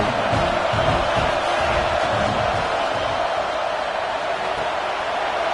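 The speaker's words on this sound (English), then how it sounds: "This crowd knows when to bring it." A stadium crowd cheers and roars in a college football video game between Clemson and FSU, a dense, steady wash of noise holding loud throughout.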